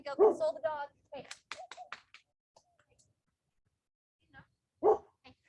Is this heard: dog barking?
yes